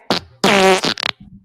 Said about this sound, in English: We did have a request from Johnny in the chat to play lots of fart noises.